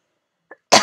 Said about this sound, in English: I'm very sorry that I'm coughing.